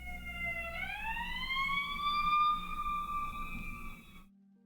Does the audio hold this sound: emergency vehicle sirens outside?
yes